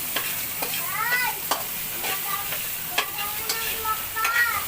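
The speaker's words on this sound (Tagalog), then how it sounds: "Halo-halo lang hanggang sa maluto ang kanyang sinangag." Garlic fried rice (sinangag) stirred in a frying pan over a constant sizzle, with repeated spatula scrapes and knocks against the pan, close up and with no one talking.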